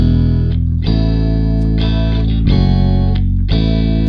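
Bass guitar holds long sustained root notes over a chord backing track with effects-heavy, distorted keys or guitar, changing chord roughly every second in a steady, full-band mix at close range.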